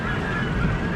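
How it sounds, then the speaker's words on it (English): Gulls call repeatedly near a water coaster at a European theme park, a steady, fairly loud honking cry that fills the short moment without any talking. "The seagulls."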